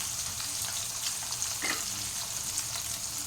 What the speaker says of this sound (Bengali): তো এখন মাছগুলো আমার ভাজা হচ্ছে।